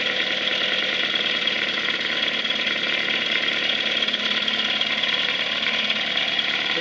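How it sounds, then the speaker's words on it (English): A 1955 Mercury Mark 5, 5 HP outboard motor idles with a steady, buzzy, rapid putter, close and unbroken throughout. "Mark 5s are not that expensive either when you get them. So it's a real nice little outboard."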